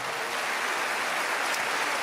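Steady broadband applause from a church congregation at a Dante Gebel sermon, a continuous wash of clapping at moderate level throughout with no voices on top.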